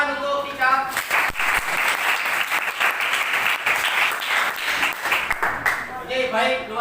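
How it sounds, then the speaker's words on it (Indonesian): Classroom applause for a student's presentation during a teaching-practice lesson on Hajj and Umrah, a dense steady clapping from many pupils lasting several seconds, with a teacher's voice speaking briefly before and after. "tepuk tangan untuk Vika"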